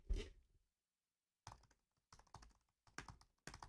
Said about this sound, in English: Do you hear me typing? Listen how fast I type.